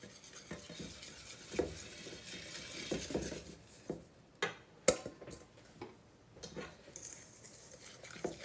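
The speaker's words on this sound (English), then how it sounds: "And now I'm going to go ahead and incorporate my dry ingredients." Dry ingredients stirred into a thick carrot cake batter in a bowl, with soft repeated scraping and tapping of the utensil against the bowl, close but faint, in irregular strokes without talk.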